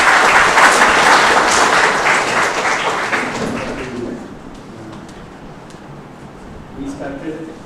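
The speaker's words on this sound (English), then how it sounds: "Please welcome him with a huge round of applause" Loud, close applause from a keynote audience at a Pune ACM chapter event, a dense burst of clapping that swells at the start and then fades over a few seconds into murmuring room noise and faint speech.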